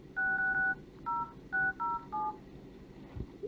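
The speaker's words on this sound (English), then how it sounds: "Now let's dial a test number." A mobile phone, an HTC Evo Design, dials a test number with a string of seven short DTMF keypad tones in uneven rhythm, clear and close against a low background hum.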